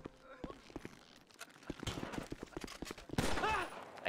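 Bursts of gunfire in GTA Online mixed with game effects and scattered voices, the shots coming in quick irregular volleys that grow denser and louder toward the end.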